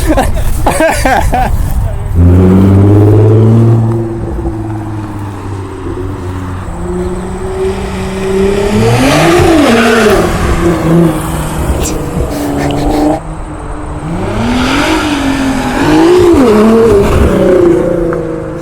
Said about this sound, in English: We got a 2009 R35 GTR, AKA the Godzilla.